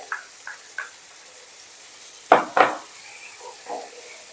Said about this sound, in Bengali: একটু ভালো করে নাড়াচাড়া করে